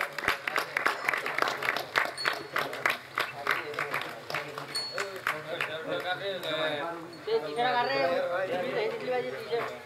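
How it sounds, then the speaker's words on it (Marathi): A crowd at a cricket tournament prize-giving ceremony claps in a long burst of applause, rhythmic and close at first, then merging into a continuous roar with voices chattering throughout. "जोरदार टाळ्या होऊ द्या."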